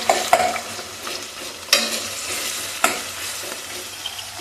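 Two large onions frying in a pan until golden, a continuous sizzle with occasional sharp scrapes and knocks of a spoon stirring, close by and without talk.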